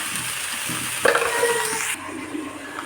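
Vegetable bhaji frying in a pan gives a steady hiss. Partway through, a louder sizzling burst and a brief stirring clatter rise up, then the sound settles back to a quieter simmer, with no voices.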